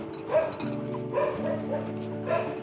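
A guard dog barks at passers-by on a neighborhood walk, giving a few deep, fairly close woofs over a steady background hum.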